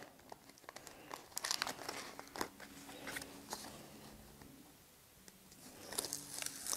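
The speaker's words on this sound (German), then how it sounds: "Den Sticker abnehmen." A sticker is peeled off its backing sheet while decorating a Tamiya VW Golf GTI MK2 rally model body, with close, quiet crinkling and tearing rustles in irregular bursts.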